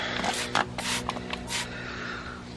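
Several short hissing bursts of spray in quick succession, close by, separated by brief pauses, as liquid is sprayed on an inflated go-kart tire to check for leaks.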